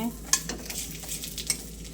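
Pumpkin flower fritters sizzle steadily in hot oil in a pan, close and clear, with light scrapes and clinks of stirring and a couple of sharp taps on the cookware.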